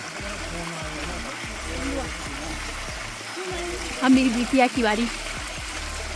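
Spring water streams from a natural spring in Kinnaur, a continuous trickling and splashing flow heard close by, with a person speaking over it partway through.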